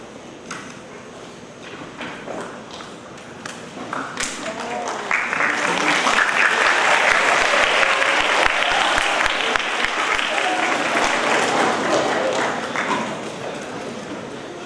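Audience applause at a school Hispanic Heritage assembly, starting as scattered claps and swelling into a full, steady ovation before tapering slightly toward the end.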